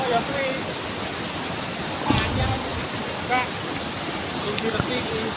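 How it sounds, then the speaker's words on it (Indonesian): Curug Gending Asmoro waterfall pouring over rocks, a steady broadband roar with a person speaking over it. "itu depan curug utamanya teman-teman yang disebut sebagai Curug Kending Asmoro"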